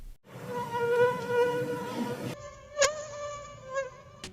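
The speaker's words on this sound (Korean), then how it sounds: "말라리아를 옮기는 얼룩날개 모기는 빨간 진모기보다 약간 높은 날개 소리를 낸다" A malaria-carrying anopheles mosquito's wingbeat whine is heard first, followed by a house mosquito's slightly lower buzz. Both are close, steady, thin hums with a soft bump partway through, and no voices.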